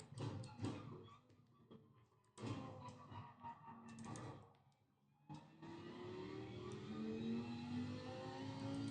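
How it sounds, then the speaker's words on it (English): A race car engine in Gran Turismo 7 revs and accelerates with rising whines, briefly cutting out twice before climbing steadily again, heard fairly faintly. "The engine just bogged down."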